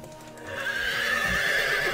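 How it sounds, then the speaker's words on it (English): A horse in the Barbie Riding Club video game lets out one clear, close neigh lasting over a second, heard alone. "Horse noises."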